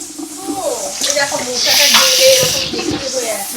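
Water hits spices frying in a pan for a banana flower curry, and a broad hiss swells for about a second before fading back, under someone talking close by.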